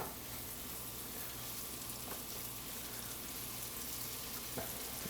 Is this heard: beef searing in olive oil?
yes